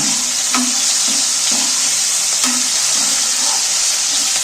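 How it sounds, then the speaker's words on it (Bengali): Tomatoes fry in a pan for a spinach and paneer dish, a loud, dense, continuous sizzle with periodic scraping stirs of a spatula every half second or so, close up. "দেখো টমেটা তো অনেকটা ভাজা ভাজা হয়ে এসছে"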